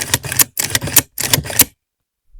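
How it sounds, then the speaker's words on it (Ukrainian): An AK-74 bolt is racked back and forth during field cleaning, giving three sharp pairs of metallic clacks, loud and close with brief pauses between, then silence. "Значно приємніше став ходити затвор, значно приємніший звук."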